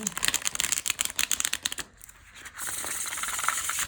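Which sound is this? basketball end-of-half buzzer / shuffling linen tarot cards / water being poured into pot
shuffling linen tarot cards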